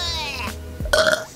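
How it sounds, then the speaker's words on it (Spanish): A woman burps loudly after drinking many glasses of water, a short throaty belch followed by a brief breathy sound, with no other talking. "Otro eructo."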